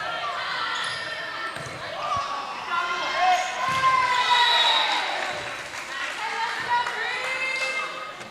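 Crowd of fans at a Forest Hills versus Richland high school girls' volleyball match, a steady roar of cheering and shouting that swells in the middle, with a bright echoing gym ambience and talk over it.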